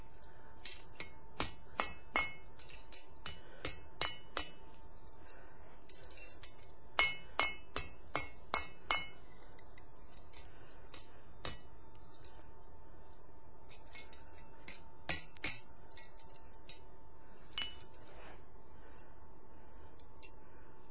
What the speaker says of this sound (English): back over to the anvil where we will do a little straightening work